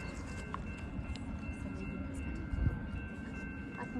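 A CN freight train runs along the railway tracks at Brockville, Ontario, producing a steady, moderately loud rumble of wheels and cars that holds throughout, with a brief thump near the end and no talking.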